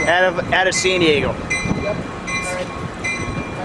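An Amtrak train arrives at the Santa Fe Depot in San Diego, its rumbling rail noise filling the background throughout while people talk excitedly over it near the tracks.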